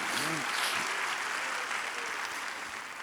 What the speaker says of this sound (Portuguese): Vamos aplaudir a Deus pela palavra dele